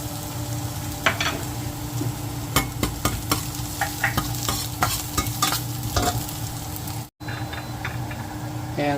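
Chopped garlic frying in a pan for a beef liver stir-fry, a continuous loud sizzle with frequent clicks and scrapes of stirring, one very brief dropout near the end.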